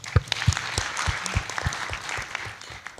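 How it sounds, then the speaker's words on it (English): Applause at a Yogyakarta–Hungary digital economy forum: a modest crowd clapping in a hall, with distinct individual claps over a few seconds, tapering off toward the end. "you deserve a round of applause as well."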